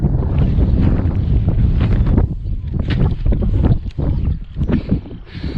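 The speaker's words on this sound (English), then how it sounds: "It just was a little bit too windy up here." Gusty wind buffets the microphone on an exposed hill slope, a loud, broadband rumble that swells and dips unevenly across several seconds with no voices.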